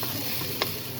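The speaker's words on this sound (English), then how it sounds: "So we'll give it a stir." Chopped onion sizzles steadily in a frying pan as it is stirred, with a soft scrape of the utensil cutting briefly through the quiet, even frying hiss.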